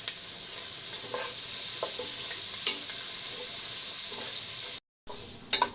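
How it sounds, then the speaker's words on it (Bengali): Onions and green chilies fry in a pan with a loud, bright, continuous sizzle and faint stirring taps, stopping abruptly for a moment near the end before a short burst of sizzling returns. "আমার পেঁয়াজ আর কাঁচামরিচটা ভাজা হয়ে গেছে"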